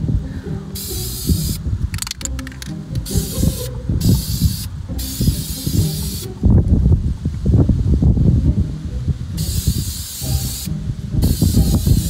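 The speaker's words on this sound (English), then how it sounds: "So I'm going to start spray painting." Repeated bursts of chalkboard spray paint from an aerosol can, each a sharp hiss lasting a second or two with short pauses between, alongside faint handling clatter.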